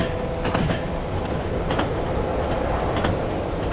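Train rolling on tracks across a snowy bridge in the video game Running Train, a continuous broadband rumble with faint rhythmic clicks at regular intervals, steady and fairly loud throughout.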